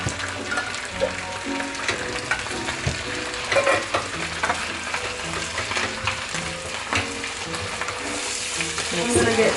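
Tuna sizzles and bubbles in a pot on low heat, with steady frying crackle and occasional stirring scrapes throughout and no talking.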